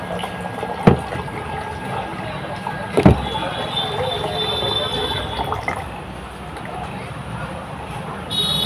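Water runs from a mug through an automatic battery filler into a battery, a steady gurgling trickle broken by two sharp clunks.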